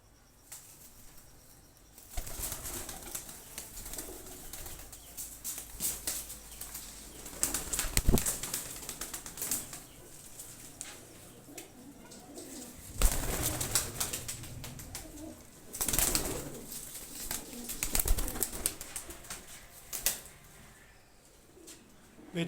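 A flock of pigeons kept for sale coos and flaps close by, with several loud bursts of wing flapping and scuffling spread across a quieter background of soft cooing.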